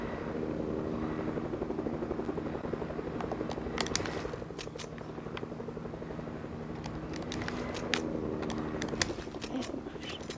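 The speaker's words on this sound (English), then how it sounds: "Dang it, the chopper." A helicopter in a video game match drones steadily throughout with a constant rotor hum and low engine tone, moderately distant, with faint bird-like coos and sharp bursts of gunfire-like cracks scattered over it.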